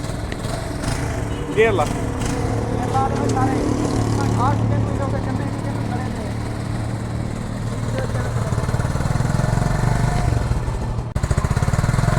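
A small engine runs with a loud, continuous, rattling drone from close by. A person speaks briefly over it.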